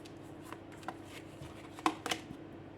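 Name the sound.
handling and placing tarot cards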